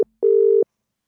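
A single steady telephone ringback tone sounds on a call, one sustained electronic beep about half a second long, alone, with a faint trace of a voice just before and after.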